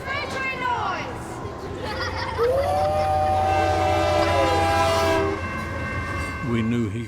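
A man imitates a freight train, whistling a long wavering horn-like tone that rises and holds, heard over constant background chatter and room noise, with voices talking throughout.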